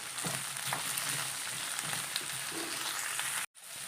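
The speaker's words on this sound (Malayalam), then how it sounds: "തക്കാളി കൂടി ഇട്ട് കൊടുക്കാം കറിവേപ്പില ഇട്ട് കൊടുക്കാം നമുക്കൊന്ന് വഴച്ചെടുക്കാം" Tomato and curry leaves sauté in hot oil for a fish curry, a steady close sizzle and crackle with faint stirring, cutting out briefly near the end.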